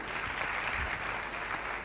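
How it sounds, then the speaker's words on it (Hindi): An awards-ceremony audience claps steadily, a dense, even wash of applause at moderate distance with no talk over it. "तालियां बजाते रहिए भाई।"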